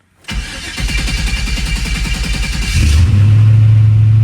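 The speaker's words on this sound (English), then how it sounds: "My startup tune obviously needs a little tuning. Little droney." C4 Corvette with a 4L80E transmission swap starting up: a sharp starter crank burst, rapid chugging cranking, then the engine catches into a loud droning idle, close and alone.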